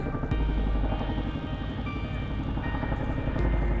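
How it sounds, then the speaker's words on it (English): A Chinook helicopter approaches through bushfire smoke near East Sale, its heavy twin-rotor thudding and engine drone loud and continuous over the short stretch. "Got a Chinook coming into East Sale."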